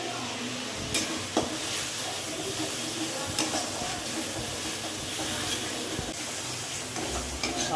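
Masala stirred and fried in a pan for a mutton curry, a steady close sizzle with scraping stir strokes and a few louder clatters, continuous and fairly loud.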